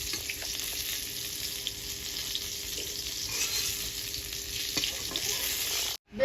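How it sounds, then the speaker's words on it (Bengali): Eggplant frying in oil in a wok, a dense continuous sizzle close up with occasional stirring, cutting off abruptly near the end; no voices. "দেখো বেগুনগুলো আমার সুন্দর করে লাল লাল করে ভাজা হয়ে গেছে।"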